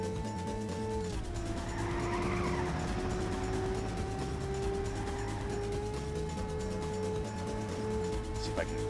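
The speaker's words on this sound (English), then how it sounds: "whenever you hit a jump and you hear the screeching of your tires" Tires screech in Ridge Racer, a PS1 racing video game, a sustained tonal squeal riding over a continuous engine drone, bending in pitch around the first second and then holding steady to the end.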